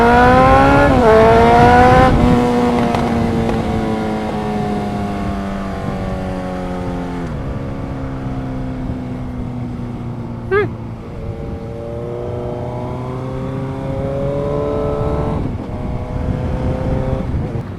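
Motorcycle or car engine revving through repeated gear changes, its pitch climbing and dropping as speed builds, loud and continuous throughout with a brief sharp accent near the middle.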